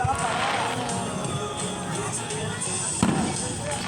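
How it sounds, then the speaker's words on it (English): Loud fireworks bursting at a beach show, a dense continuous barrage of booms and crackles with a sharper blast near the end, crowd noise and chatter underneath. "I think I like loud fireworks like you."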